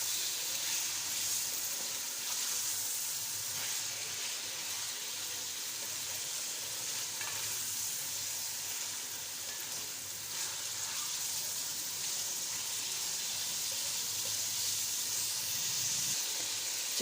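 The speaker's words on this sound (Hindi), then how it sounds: "थोड़ा सा इसको इसमें ब्राउन कर लेंगे" Chicken pieces browning in a hot karahi give off a steady, loud sizzle with hissing steam that runs unbroken throughout, close by and with no talking.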